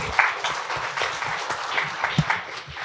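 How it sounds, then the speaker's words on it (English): A panel discussion audience claps at the Sindh Abhyas Academy, a moderate patter of scattered hands with uneven peaks across a few seconds, no speech over it. "Can we have a round of applause, please?"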